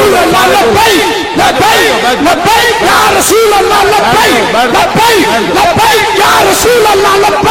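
A large crowd chants the religious slogan Labbaik ya Rasool Allah at a rally, loud and continuous, with many voices yelling together in a rhythmic, roaring mass.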